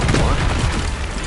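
A Depulso force spell cast in a wizarding action game, bursting as a loud, dense blast at the start of a short, busy stretch of combat noise, with a low rumble under it.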